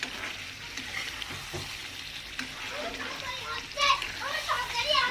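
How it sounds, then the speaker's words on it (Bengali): Pointed gourd and chicken masala sauté in a pan, with a moderate sizzle and occasional stirring scrapes beneath children's voices chattering and playing nearby, which grow louder toward the end. "দেখো কষানো হয়ে গেল আর একটু কষাবো"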